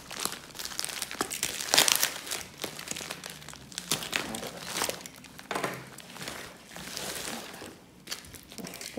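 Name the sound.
unwrapping a small parcel of diamond painting accessories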